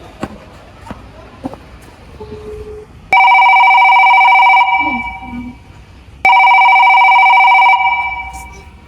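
A telephone rings in two long, loud electronic tones separated by a brief pause, after a stretch of quiet footsteps and small shuffling sounds in a room.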